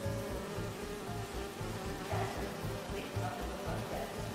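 Bees buzz steadily in the Spider-Man 2 video game, a dense, close swarm drone with a pulsing low rhythm running continuously and no talking.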